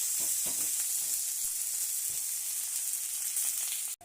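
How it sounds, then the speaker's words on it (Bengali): Chopped onion and green chillies frying in hot oil in a wok, a steady close sizzle and hiss with faint stirring scrapes, no talk, ending with a brief knock. "প্রথমে কড়াইতে তেল গরম করে তার মধ্যে দিয়ে দিলাম পেঁয়াজ কুচি আর দুটো কাঁচা লঙ্কা"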